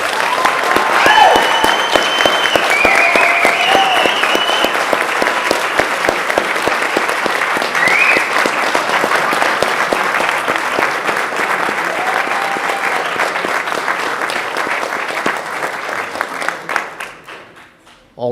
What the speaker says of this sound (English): This is all of our graduates for 2025. Let's give them a big round of applause.